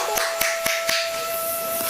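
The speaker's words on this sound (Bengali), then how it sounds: "সবাই মিলে একটা হাততালি দাও তো" Children clap their hands: four or five sharp, evenly spaced claps, then quieter ones, over a faint steady hum.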